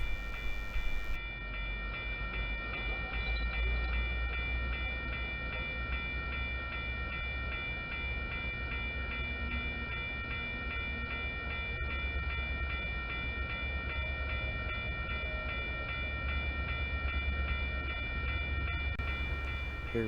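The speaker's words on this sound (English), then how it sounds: "Here we see a northbound train departing from North Temple Station, headed for Ogden." A UTA FrontRunner commuter train pulls away from North Temple Station heading north, its steady rumble and rail noise sustained throughout, with a faint horn or whistle tone holding in the background.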